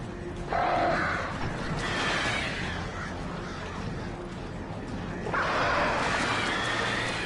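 Crows cawing in the Alan Wake video game, a flock of harsh caws rising in loud bursts at the start and again near the end, over a dark rumbling game background.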